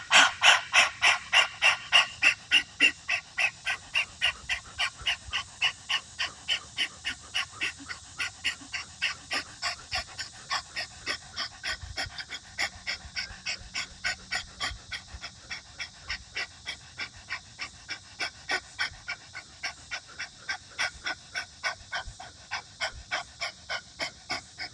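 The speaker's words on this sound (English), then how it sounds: "I'm basically doing these breaths of fires till fatigue and getting progressively faster and faster" Rapid breath of fire yoga breathing, sharp rhythmic nasal exhalations pumping steadily for many seconds, fast at first, then slightly softer and more even, close and fairly quiet with no talking.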